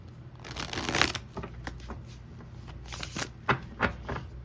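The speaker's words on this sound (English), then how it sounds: "I am going to go ahead and attempt to shuffle it like I did the first time." A tarot deck is shuffled by hand during a reading: bursts of card riffling and slapping come close and fairly loud, with sharper thumps near the end and no speech.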